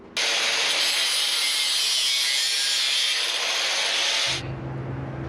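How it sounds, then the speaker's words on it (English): A power saw cuts through a metal heat riser pipe for a VW engine, a loud steady buzzing cut of about four seconds that stops abruptly, leaving a low hum, no talk. "So I'll just cut this way and then we'll start grinding."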